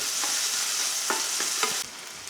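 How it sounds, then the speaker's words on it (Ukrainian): Spinach frying lightly in a pan gives a steady close sizzle, with a few soft stirring scrapes, before the hiss drops suddenly at the end. "А тепер так обсмажуємо. Але не потрібно, щоб воно тут все згоріло, а так легесенько обсмажити."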